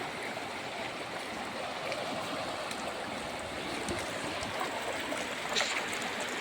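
The Mahanadi river flows as a steady, broad rush of water, continuous and close, with no voices over it.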